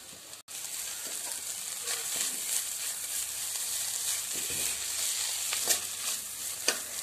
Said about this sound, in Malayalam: ഇതിങ്ങനെ സാവധാനം ഇട്ട് ഇങ്ങനെ വലിപ്പിച്ച് ഡ്രൈ ആക്കി എടുക്കണം